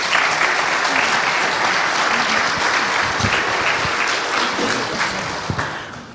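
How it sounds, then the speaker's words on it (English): Sustained applause from an audience at a church gathering, dense steady clapping filling the whole stretch, fairly loud and close, fading slightly toward the end. "Would you guys give them a round of applause, please?"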